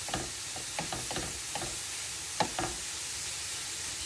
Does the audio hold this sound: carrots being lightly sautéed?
yes